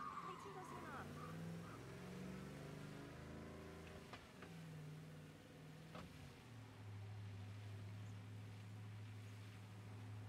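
A car engine idles in Mafia: Definitive Edition with a low, smooth, quiet hum that shifts pitch slightly, heard under steady talking.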